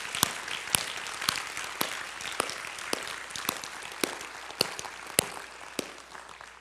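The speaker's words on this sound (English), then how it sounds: "Give them a big round of applause as they walk in here." Applause from a crowd, steady clapping with a few louder, sharper claps standing out, no talking over it.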